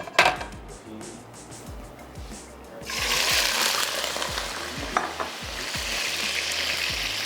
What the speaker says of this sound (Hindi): अब मैं इसमें ऐड करने जा रही हूँ चिकन और हम इसको थोड़ा सा सौते कर लेंगे।